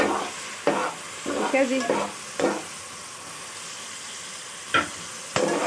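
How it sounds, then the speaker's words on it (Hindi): Meat (gosht) being stirred and fried in a pot during bhuna, with a steady low sizzle broken by several sharp scraping stirs spread across the clip; a voice briefly speaks near the middle. "अब हम इसकी भुनाई करेंगे ताकि इसमें से स्मेल ना आए"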